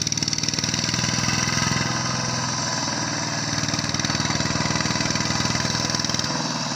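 Two tractors, one black and one red, plough a flooded rice paddy, their engines chugging in a steady rumbling drone close by, loud and continuous with no talk.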